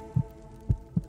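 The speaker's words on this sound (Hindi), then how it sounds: "शैतान कम से कम अपने महबूब के दिल की धड़कन तो सुन सकता है" A heartbeat sound effect: three deep, dull thumps, one early and a spaced pair later, over a low hum in a quiet scene.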